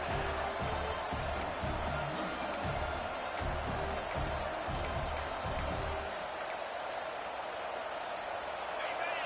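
A football stadium crowd roars and cheers steadily during a game against LSU, a dense wall of noise with a commentator talking over it.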